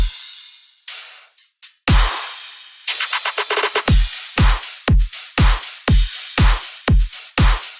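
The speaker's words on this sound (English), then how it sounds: "All of the drums together sound like this." Full drum section of a dubstep track: a few sparse hits and a riser build into a driving pattern of heavy kicks and crisp snares with shaker, loud and dense, with no one talking.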